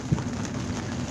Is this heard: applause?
no